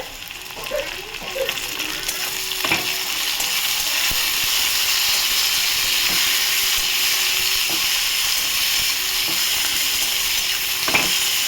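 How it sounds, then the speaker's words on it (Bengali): Sliced onions frying with chilli and tomato in hot oil, a steady close sizzle with scattered scrapes and knocks from stirring that run for the whole stretch. "পেঁয়াজকে গোলাপি করে ফিরছি, লঙ্কা টমেটো"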